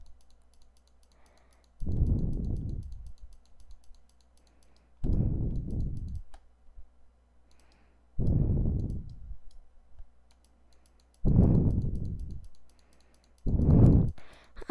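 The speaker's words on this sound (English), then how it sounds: "I'm a clicker. I love to click." Mouse clicks during a Roblox wall-climbing obby come in five separate bursts at roughly regular intervals, each a dull, fairly loud knock lasting about a second, with quiet gaps between and no talk.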